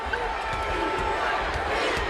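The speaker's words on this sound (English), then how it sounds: "Listen to the crowd chanting for defense" A basketball arena crowd in Detroit chanting for defense during an NBA game, a dense, steady roar of many voices filling the space at even loudness.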